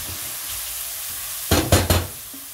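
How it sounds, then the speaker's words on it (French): Onions fry in a pan with half a glass of oil, a low steady hiss that bursts into three loud, close sizzling stirs before settling again. No voices. "vous mettez les oignons dans une poêle"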